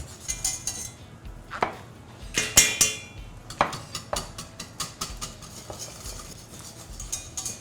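A spoon scrapes and knocks against a pot while red curry chili paste is stirred to dissolve it, giving irregular clinks and taps at close range, moderately quiet with no talking.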